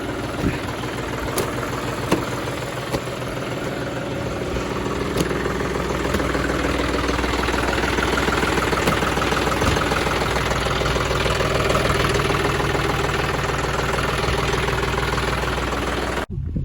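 A John Deere tractor, brought out after sitting unused for three months, idles steadily after starting, a loud, continuous close-up engine chug with a knocking rhythm that holds until it cuts off at the end.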